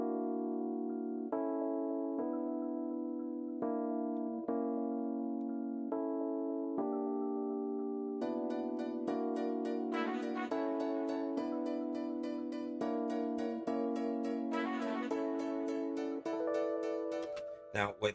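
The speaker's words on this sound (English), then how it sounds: "just the Rhodes and the vocals" Rhodes electric piano plays sustained chords alongside a vocal line, soft at first, then brighter layered tones join midway, steady and close.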